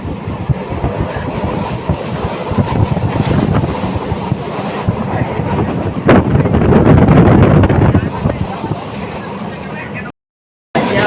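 A train rumbles steadily through Assam tea garden country with rattling, clattering wagon noise and wind buffeting the microphone, loud and continuous, briefly cutting out near the end.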